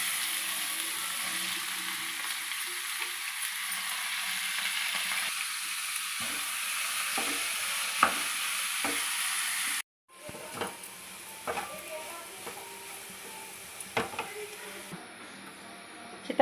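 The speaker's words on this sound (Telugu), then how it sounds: "ఇవన్నీ మంచిగా వేగినాక కట్ చేసుకున్న ఆలు ముక్కలు వేసుకోవాలి." Potato pieces sizzle steadily in hot oil in a pan with dried red chillies; a loud continuous hiss breaks off sharply midway, then resumes lower with scattered spatters and clicks.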